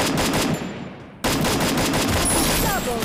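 A shield gun fires in Free Fire MAX, rapid automatic bursts filling the clip, loud and close, with a brief drop-off in the middle before the firing resumes.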